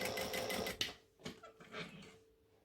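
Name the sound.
sewing machine stitching the spine line of a fabric book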